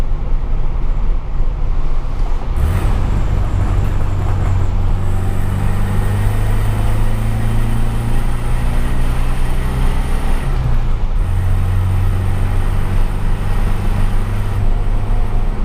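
A car engine drones loudly and close by at night in city traffic, its pitch rising as it accelerates, easing, then climbing again as the vehicle passes.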